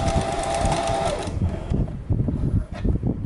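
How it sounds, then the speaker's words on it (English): A sewing machine stitching a zigzag along mask fabric for a pleated face mask, running in a steady close whir before breaking into shorter stop-start bursts, with no talking. "now I got a zigzag going, and this is just to make sure that the fraying is reduced of the fabric after you have sewn it"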